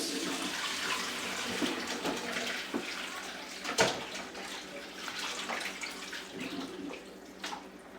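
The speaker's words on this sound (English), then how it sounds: "I drain the water off of my noodles." Hot water from cooked noodles pouring out through a strainer in a kitchen, a steady loud rush of draining water with a brief heavier splash midway, no voices.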